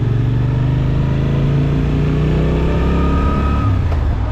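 A Suzuki V-Strom 800SE motorcycle in A2 trim is ridden with its engine humming loudly and smoothly throughout, holding a steady drone with slight shifts in pitch and no voices.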